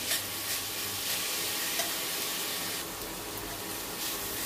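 Capsicum being lightly fried in a pan for a noodle dish, a steady broadband sizzle with soft stirring scrapes running throughout, close and continuous, no voices.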